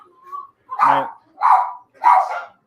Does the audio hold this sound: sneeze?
no